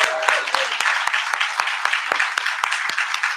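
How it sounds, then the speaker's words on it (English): Applause from an audience: steady crowd clapping with sharper individual claps standing out, fairly loud and close, no talking. "I just want a round of applause for that."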